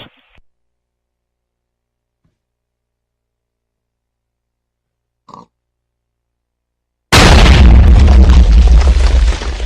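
Cannon fire and explosions in the video game Minecraft on Xbox 360, with a few faint pops, then a sudden loud, sustained roar of blasting and destruction that lasts to the end.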